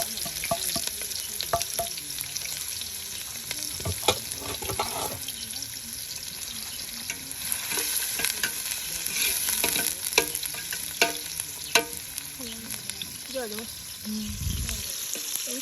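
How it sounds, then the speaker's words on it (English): Onions frying in a pot before cabbage is added, cooked in an African village setting; a continuous crackling sizzle with stirring clatter and watery splashes, heard close and fairly even throughout. "So I fried the onions for the cabbage for some time."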